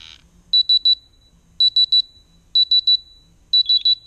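Pump alarm on a wireless gas-monitoring instrument, sounding loud clear beeps in four evenly spaced triplet bursts, alone and close.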